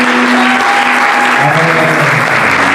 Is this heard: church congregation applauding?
yes